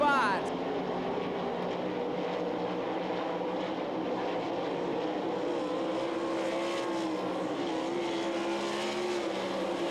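360 sprint cars race around the dirt oval at the Knoxville Nationals, a continuous roar of engines rising and falling in pitch as the pack circles, with a commentator talking over the din.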